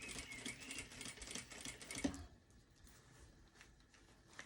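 A sewing machine running a top-stitched seam with a large stitch: a fast, even mechanical chatter for about two seconds, then it stops, leaving quiet room tone.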